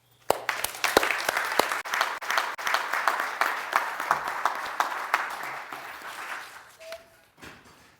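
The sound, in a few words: audience applause welcoming speaker Wolfgang Lorch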